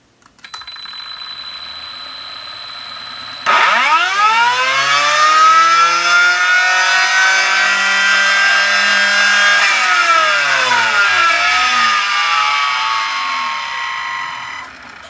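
A Hobbywing XR10 Juststock ESC drives a brushless motor on a MiniPro dyno: a faint steady tone, then a loud electric whine that sweeps upward in pitch, holds high and fades out at the end.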